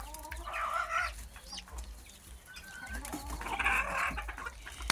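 Young chickens in a backyard coop cluck and chirp in two clear bursts, close by, with softer scratching and bird noise between them and no talking.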